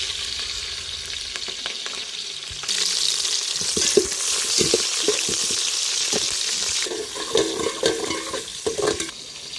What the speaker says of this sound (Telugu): ఆయిల్ అయితే వేడైంది కదా ఉల్లిపాయ వేసుకున్నాం పచ్చిమిర్చి